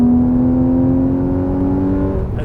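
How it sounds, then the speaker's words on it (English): A Porsche Boxster GTS accelerates on the road, its engine droning in a steady rising tone that holds loud and close before easing off at the end. "the exhaust gets louder, the acceleration picks up, the car gets up and down the road"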